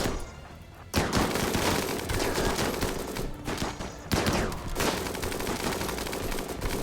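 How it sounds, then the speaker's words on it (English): Gunfire in the RimWorld video game, dense rapid shots and automatic bursts as colonists fire at enemies, loud and continuous with slight swells, no talking. "So we're just getting to shoot at them for free from here."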